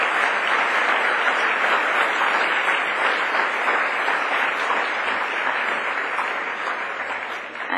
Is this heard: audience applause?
yes